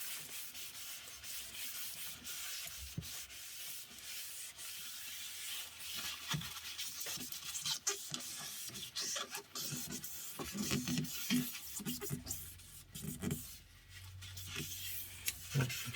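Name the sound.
sanding beech wood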